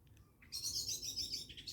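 Blackbird song at dusk during a cold winter overnight bivvy session, a bright warbling phrase starting about halfway through and running on, clear and moderately near over a quiet low background.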